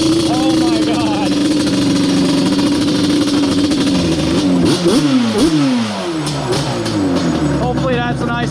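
A Yamaha Banshee two-stroke drag build idles loud and close, then revs in quick rising and falling blips before settling, with excited voices heard over it.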